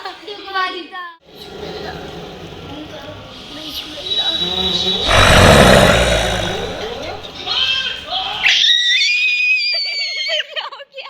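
A loud, harsh scream staged as a witch during a ghost prank at home, with a burst of shrieking in the middle, surrounded by children's excited talk and high squeals.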